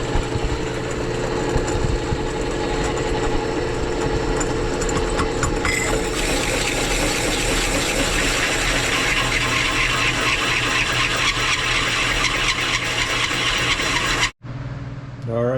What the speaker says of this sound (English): we're just cutting the hole out for the starter now. So, using a hole dozer,